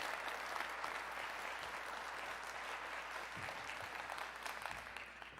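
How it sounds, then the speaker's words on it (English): A crowd applauds steadily throughout, a dense wash of clapping that holds at an even level without letting up. "Let's give him a round of applause."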